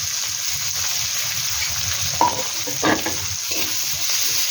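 Tomato, ginger, cumin paste, garlic, salt and turmeric sauté in a pan with a loud, steady hiss of frying and a few scraping stirs, close and continuous, no voices.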